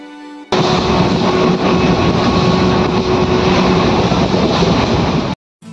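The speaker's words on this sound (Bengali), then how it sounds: "ততক্ষণে ট্রেন চলে এলো, রওনা দিলাম বাড়ির উদ্দেশ্যে।" A loud, steady rumble of a train arriving at a station, broadband roar with a faint sustained tone, continuing for several seconds before cutting off abruptly.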